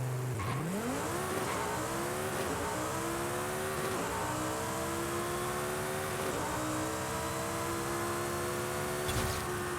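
A 950 hp 2016 Audi R8 V10 Plus drag tune in the racing game Forza Horizon 5 launches and screams up through quick gear shifts, its engine note rising in repeated sweeps with brief dips at each shift, loud and constant throughout.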